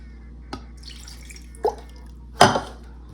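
Small splashes of water drip into a gecko food mixture, three distinct drops or pours spaced apart, each a bit louder than the last, close and otherwise quiet.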